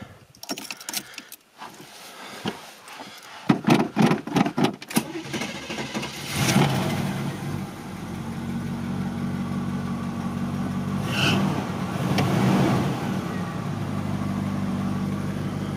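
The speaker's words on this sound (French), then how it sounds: "Ça se démarre toujours avec les clés de la boîte aux lettres." A car in a garage is started with a mailbox key: keys jangle first, then the engine cranks and catches, settling into a steady close idle.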